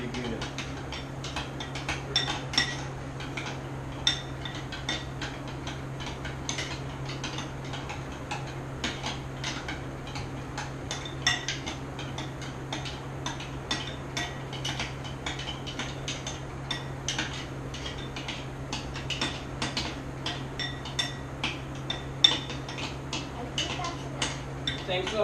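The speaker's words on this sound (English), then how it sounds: "Get your spoon. Let's mix this up here." A spoon stirs a soy milk mixture in a kitchen, giving light repeated ticking clinks against the container throughout, steady and close, over a constant low hum.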